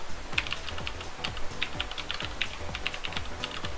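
Steady, rapid typing on a computer keyboard while entering a file name, with close, crisp key clicks in an even, continuous rhythm and no voices.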